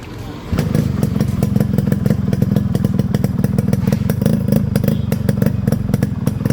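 A Yamaha RX 100 motorcycle with a changed silencer idles close by with a loud, steady, rapid thumping two-stroke beat, the exhaust crackling slightly throughout.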